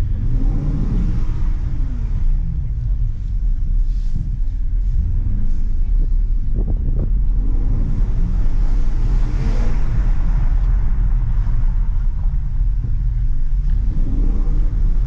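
Porsche Cayenne GTS engine on the move, a steady low rumble with constant road and wind noise that swells gently but never drops away.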